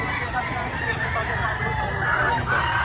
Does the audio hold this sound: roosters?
yes